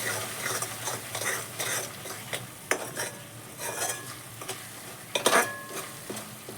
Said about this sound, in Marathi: पूर्ण असं तेल सुटेपर्यंत हा मसाला पण तळून घ्यायचा